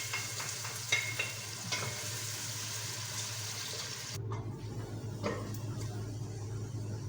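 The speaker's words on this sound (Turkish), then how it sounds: "Mis gibi zeytinyağını koydum. Şöyle koyayım. Hemen soğan da atayım. Kavrulsun." Chopped onion sizzles in hot olive oil in a pan, with scraping stirring strokes early on, then a sudden drop to a quieter simmering fry after a few seconds; no talking.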